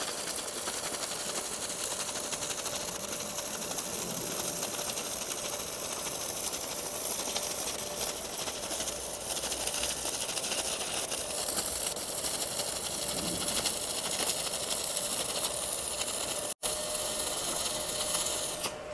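MMA 120 inverter welder from the HL Smart series arc welding with a fifth rod, a continuous close crackling, sizzling buzz that holds steady before a brief break near the end.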